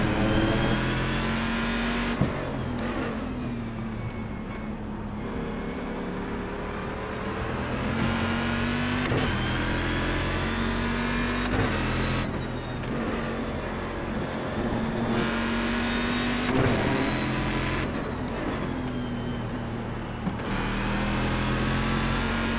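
A Corvette race car engine in the iRacing game at Watkins Glen drones steadily and loud, with its pitch climbing through the gears and dropping briefly at each shift, several times in a row, and no talking.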